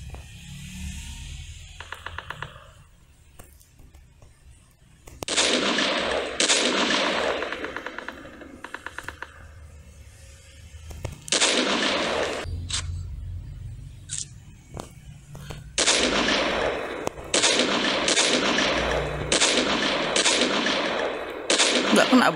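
Gunfire in a Call of Duty battle royale match, with bursts of automatic weapon fire repeating in clusters across the clip between quieter gaps, close and loud.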